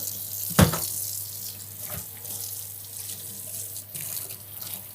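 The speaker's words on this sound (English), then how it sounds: "And now we need to wash off the mixture." Tap water running steadily into a sink while mixture of sea parsley, sea celery and lemon myrtle is rinsed off food, with a couple of splashing knocks against the basin.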